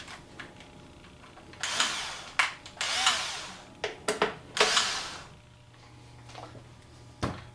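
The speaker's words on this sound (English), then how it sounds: "Now we'll go ahead and take these 3 screws out so that we can take this casing off" Screws are backed out of the plastic casing of a Stihl BG86 leaf blower with a T25 star bit, heard as several short bursts of whirring and clicking separated by quiet pauses, close and fairly loud.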